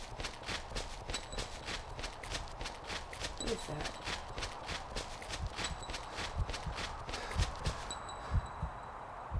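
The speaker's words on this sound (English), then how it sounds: "Oh, those are footsteps? Oh, they are." Footsteps in the Weeping Angels horror video game, a steady run of crisp clip-clop steps over a low rumbling bed, with a player talking briefly over them.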